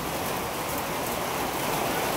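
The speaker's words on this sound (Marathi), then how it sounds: "आता थोडासा पाऊस कमी झालाय जरा बऱ्यापैकी." Steady rain falls in a dense, unbroken hiss while the downpour is easing off during a rainy-season bike trip, loud and close with no talking.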